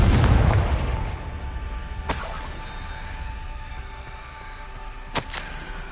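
A Confringo blasting spell explodes in Hogwarts Legacy, a sharp boom opening the moment and decaying into a low rumble, followed by two further short cracks spaced a few seconds apart, with no talking.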